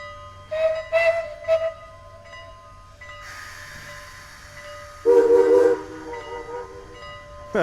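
A Strasburg Railroad train horn sounds several short blasts, then a long sustained chord that echoes through a valley, with a louder blast near the end over faint low rumble.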